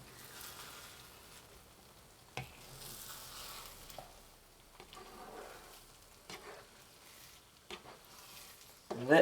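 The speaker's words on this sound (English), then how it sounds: "we've been frying the eggs here just a little bit" Faint, soft sizzling of eggs frying for a scramble, with occasional light scrapes and taps of a utensil against a pan.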